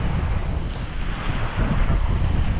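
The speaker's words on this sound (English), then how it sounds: "Kind of windy." Steady, strong wind blasts across the microphone at Basdaku Beach, a loud continuous roar mixed with the wash of surf and no voices.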